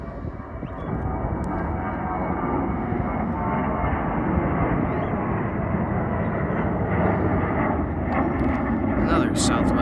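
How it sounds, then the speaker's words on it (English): A Southwest Boeing 737-700 jet takes off from a Phoenix airport, heard from a nearby pathway as a steady, loud, broad engine roar that sets in within the first second and holds strong throughout. "Another Southwest 737-700."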